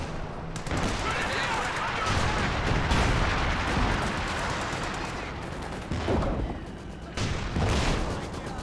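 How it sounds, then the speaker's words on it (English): Artillery shells from a barrage in Company of Heroes 2 explode in a dense, continuous scatter of booms and cracks, loud and overlapping for several seconds while a commentator talks over the battle. "Nice is this barrage though. Really good scatter on those shells."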